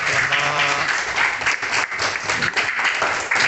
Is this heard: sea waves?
no